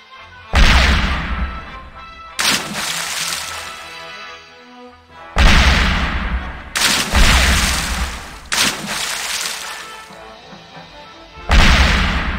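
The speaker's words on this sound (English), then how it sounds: "That's a powerful cannon." Loud booming cannon blasts fire in a series in The Curse of Monkey Island, each sharp hit followed by a long rumbling decay, with several shots in quick succession.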